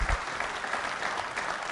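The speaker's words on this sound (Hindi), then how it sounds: "तालियां तो तब तक बजती रहनी चाहिए सब जब तक मैं शुरू नहीं कर दूं." At a legal-system quiz show, a studio audience keeps up a brief burst of dense, continuous clapping, close and loud, with no speech over it.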